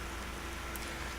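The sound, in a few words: rain falling in a video game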